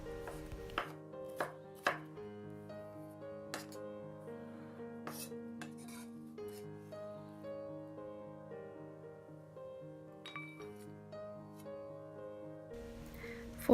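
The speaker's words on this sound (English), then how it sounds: "just roughly chop through everything." A knife roughly chops garlic steadily on a cutting board, with a few sharper, louder strikes near the start and a dense rhythm of light cuts throughout.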